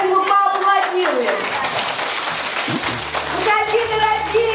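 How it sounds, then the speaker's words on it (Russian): Children clap together in a puppet theatre show at a kindergarten, a dense burst of applause in the middle, with voices and music before and after. "Давайте его поаплодируем."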